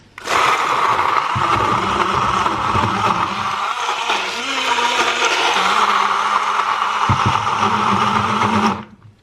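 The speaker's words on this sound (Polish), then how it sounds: "także miksujemy" A blender mixing a smoothie whirs loudly and steadily for several seconds, its pitch dipping briefly mid-run, then cuts off abruptly.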